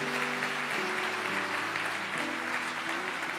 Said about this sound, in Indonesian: Yang percaya di sini kasih tepuk tangan untuk Tuhan.